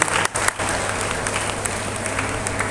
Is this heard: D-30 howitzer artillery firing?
no